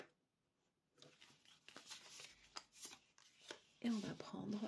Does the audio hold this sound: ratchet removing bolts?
no